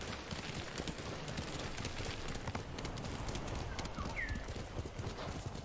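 Horse hooves clip-clop steadily in the open-world samurai game Ghost of Tsushima, a continuous rhythmic trot heard alone over a dense outdoor ambience.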